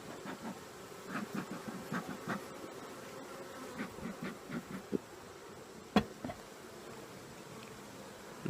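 Honey bees buzz around an open hive during an inspection, a steady close drone with sharper bursts as individual bees pass near.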